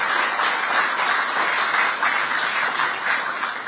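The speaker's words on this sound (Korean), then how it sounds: "여러분께서도 환영의 박수 다시 한번 부탁드립니다" A crowd claps steadily and loudly at the opening ceremony of the Ministry of Oceans and Fisheries office in Busan. The dense, sustained applause fills the whole stretch, with no voices over it.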